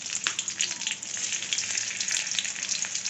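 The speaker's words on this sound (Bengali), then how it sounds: "আমি কড়াতে একটু তেল দিয়ে কালো জিরে দিলাম।" Nigella seeds and green chillies sizzle in hot oil in a wok, a steady close crackling hiss with fine spattering pops throughout, no voices.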